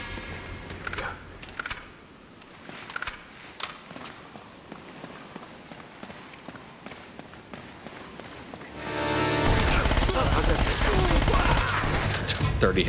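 Gunfire from the video game Uncharted: Drake's Fortune, with a few sharp shots popping over a busy game soundscape of footsteps, then a louder, dense burst of action toward the end.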